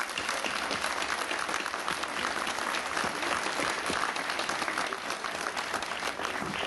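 Steady crowd applause at a civic event in Nice, many hands clapping in a continuous dense wash, moderately distant and even in level from start to finish with no speech.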